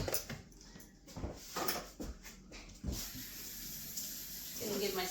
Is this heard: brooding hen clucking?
no